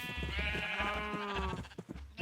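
Sheep in the Minecraft video game bleat close and clear, a wavering cry lasting over a second, followed by softer game noises, with no talk over it.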